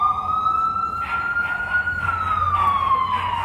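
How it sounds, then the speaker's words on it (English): An ambulance siren wails on Columbus Avenue in Manhattan's Upper West Side at night, a loud, slowly rising and falling tone over low city traffic rumble. "I think it's an ambulance crossing Columbus Avenue and moving toward us right now."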